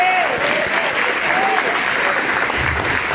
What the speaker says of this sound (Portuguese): Você pode aplaudir Jesus da glória.